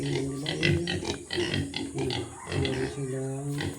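Pigs on a farm grunt and oink repeatedly at close range while drinking, with a person talking over them.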